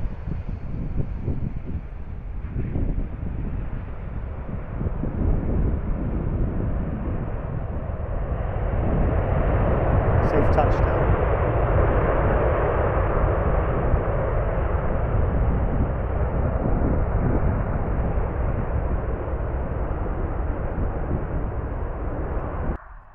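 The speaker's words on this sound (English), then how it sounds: "This one's coming in from Nottingham, Jet2." A Jet2 passenger jet, registration G-JZBE, arriving at Lanzarote from Nottingham, makes a broad, steady engine roar that builds over the first few seconds and holds loud and continuous, with some wind buffeting on the microphone and no talk.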